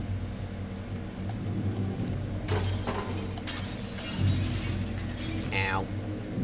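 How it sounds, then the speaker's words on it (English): Glass shattering and falling in the video game Little Nightmares, a sharp crash followed by scattered tinkling shards over a low rumbling game ambience, with a brief vocal sound near the end. "That's a lot of glass falling down on top of me."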